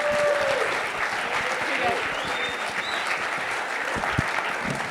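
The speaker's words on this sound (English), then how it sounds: "Give these guys another round of applause." An audience at a recovery event applauds for the speakers, a continuous wash of clapping with a few whistles and cheers mixed in.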